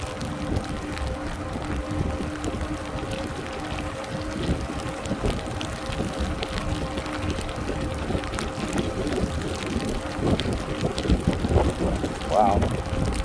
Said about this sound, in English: Wind's coming out of an unusual direction today.